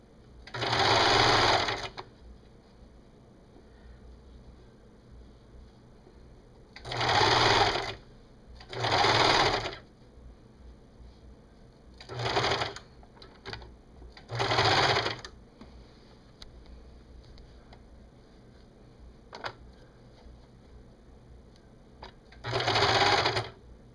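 A sewing machine sets in a t-shirt sleeve in short bursts of rapid whirring stitches that come again and again at irregular times, with quiet gaps and faint handling noise between them.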